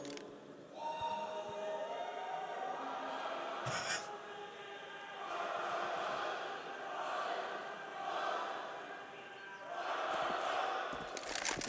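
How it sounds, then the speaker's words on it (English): A live crowd at an esports Counter-Strike match on the Inferno map in Melbourne cheers in rolling swells, loud and steady throughout, with a few sharp peaks. "here's where you get to cheer again if you want"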